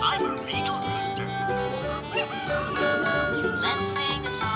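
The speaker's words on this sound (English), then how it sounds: "I'm a rooster. I love to crow." A rooster crows over bouncy, busy music from a children's farm-animal song, with the crow mixed into the dense backing track.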